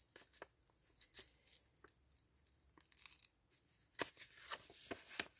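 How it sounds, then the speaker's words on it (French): Paper wrapping on a mailed parcel torn open by hand in bursts of ripping and crinkling, close up and fairly quiet, with short pauses between pulls and no talk. "J'ai pas envie de tout déchirer."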